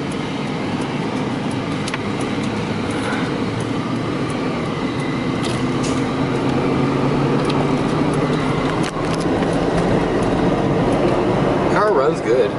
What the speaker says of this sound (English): Car runs good.